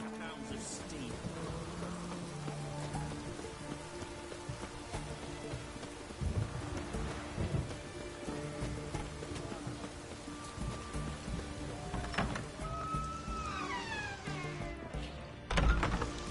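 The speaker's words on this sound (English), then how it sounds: "It's raining" Rain and thunder in the video game Witcher 3, a soft continuous patter with low rumbles, heard faintly under game music and character voices.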